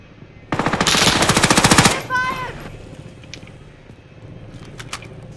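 Close, loud machine gun fire in the Warzone video game comes as a rapid burst of about a second and a half. Game sounds and faint distant shots follow.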